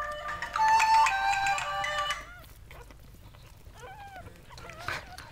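An electronic ringtone melody chimes for about two seconds, then faint high squeaks and whimpers follow in a quiet room.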